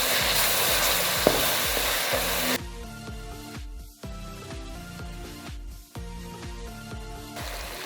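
Spices for keema, coriander powder and salt, sizzling and frying in a pan, with steady loud hiss giving way to rhythmic scraping stir strokes repeating every second or so.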